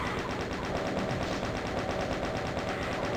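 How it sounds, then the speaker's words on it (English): A chaingun fires in DOOM, Map 20 of Forward Toward Uranus X, pouring out a rapid, steady stream of shots with an even rhythm that stays loud and unbroken, with no talking. "if you've been saving up your chain gun ammo like I have, this is a good time to unload it"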